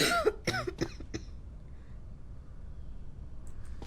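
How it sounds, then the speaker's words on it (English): A woman coughs in a quarantine zone checkpoint video game, four or five sharp, close coughs packed into the first second, then a quiet room tone with faint clicks. "Yep, she coughing."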